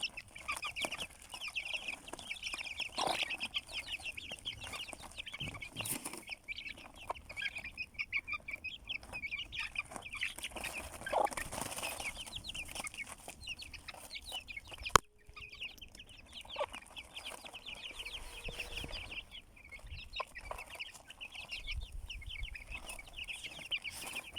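A flock of hens and roosters on a Turkish farm clucks and murmurs continuously at close range, a busy layered chatter with occasional wing flaps and one sharp knock midway.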